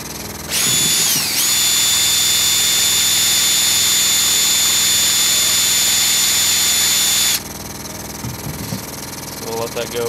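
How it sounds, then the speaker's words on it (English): A DIY lawn sprayer's electric pump runs steadily with a loud, constant whine for several seconds while agitating a weed killer mix with the boom blocked off, then shuts off, leaving quiet background and a few faint sounds. "Something I can also do is turn the pump on."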